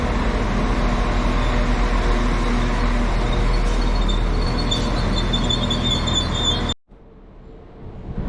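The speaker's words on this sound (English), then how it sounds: "the delayed 1732 to Southport departs" A delayed train to Southport departing Bolton station, heard as a loud, steady low rumble of engine and wheels that runs continuously before cutting off abruptly to quieter ambience.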